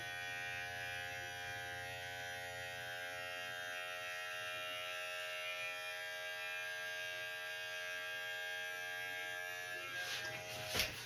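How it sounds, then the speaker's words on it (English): Electric clippers buzz steadily and closely while shaving hair off a man's head, a continuous harmonic drone lasting throughout with a brief louder rattle near the end. "Shaving it all off."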